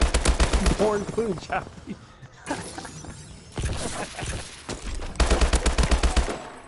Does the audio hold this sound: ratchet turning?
no